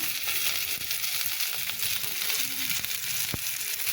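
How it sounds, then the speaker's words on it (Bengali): Cumin and nigella seeds sizzle in hot oil in a Bengali kitchen, a steady close frying hiss with light crackles running through the whole stretch, no voice over it. "জিরে কালো জিরে দিলাম"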